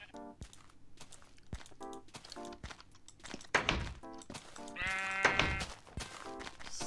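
Sheep in the video game Minecraft bleat repeatedly, several close, loud calls spaced irregularly, mixed with thumping footsteps and crunching blocks.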